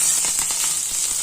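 Garlic and green chillies hit hot oil with tempering seeds, giving a steady, close hiss of frying with a few faint crackles.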